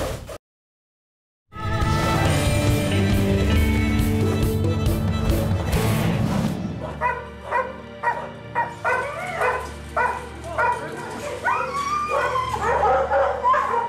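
Bird dogs at a Georgia quail hunting preserve bark and yip in a rapid series of sharp bursts. The barking is preceded by a loud, dense stretch of music or noise and sounds fairly close.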